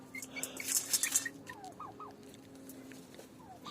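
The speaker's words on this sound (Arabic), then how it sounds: "طبعا ده كتكوت يا جماعة وطالع فرخة" A young chick peeps in short, high, rising chirps, a few close together, over soft background rustling and faint clucking.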